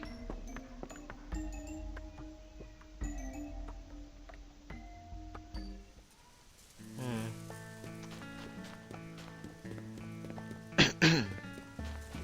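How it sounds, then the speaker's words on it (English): A man clears his throat in several rough bursts, near and fairly loud, over quiet game music and chimes from a Rune Factory Frontier playthrough. "Sorry for clearing my throat a lot."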